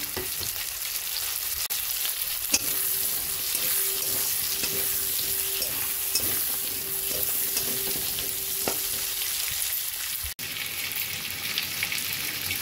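Cut taro pieces tossed into lightly golden fried onions, frying with a dense continuous hiss and scattered spatula taps, the sound shifting abruptly near the end.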